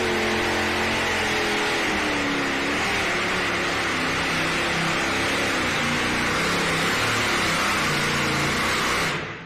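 Twin-engine pulling tractor at an NTPA truck and tractor pull at the NC State Fair in Raleigh, one engine facing forward and one backward, roaring loud and close as the revs rise and fall for about nine seconds before cutting off abruptly.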